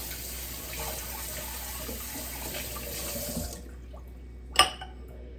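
Tap water runs steadily into a kitchen sink while dishes are washed, then the flow shuts off and a single sharp clink of a dish rings out in the quiet.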